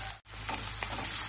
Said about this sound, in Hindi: अब इसमें मैं क्या डालूंगी, इसमें मैं डालूंगी ऑनियन, रफली चॉप ऑनियन, इसमें मैं डालूंगी नमक